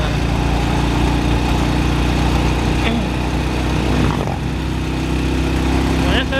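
Motorcycle engine droning loud and steady throughout a ride through green village countryside on the road to Jrahi, Mount Wungkal, with no clear breaks in the hum.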